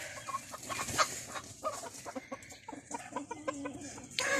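A Pekin bantam hen clucks softly among other chickens in a calm backyard coop, with scattered short calls over a busy farmyard background.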